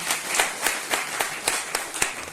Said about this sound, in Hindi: एक बार पहले बड़े दीदी के भी ताली बजाना।